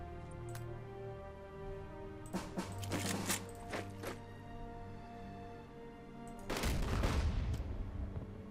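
Scattered gunfire bursts crackle from a Unity of Command 2 Stalingrad battle, a cluster of sharp shots in the middle and a heavier blast near the end, set against steady game music and no talk.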